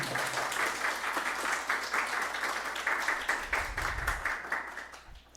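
A workshop audience in Brazil applauds an exam-prep coordinator and author, steady dense clapping throughout with a low rumble midway and a fading tail.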